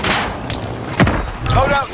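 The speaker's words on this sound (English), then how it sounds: "Where are the snipes coming from?" Sniper rifle shots in a Warzone match come as sharp, loud cracks with booming tails, one sudden hit near the middle and another shortly after, mixed with game noise and voices.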